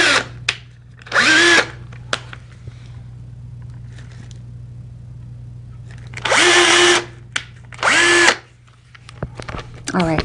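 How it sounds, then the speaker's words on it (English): A power drill bores a hole in the top of a homemade grow light stand, with a few separate loud bursts of whining drilling set against a steady low hum, and short pauses between them. "I'm going to drill a little hole right in the middle of the top here"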